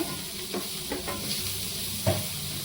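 Turmeric frying with onions in a pan makes a quiet, steady sizzle, with a few soft scrapes as the mixture is stirred and one sharper clack of a spoon near the end.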